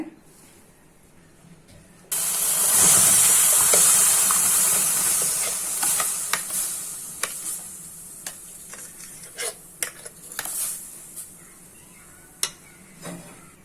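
Grated carrot halwa cooks in milk in a pan, opening with a sudden loud hiss and sizzle, then steady bubbling with repeated scraping strokes of a spoon close by.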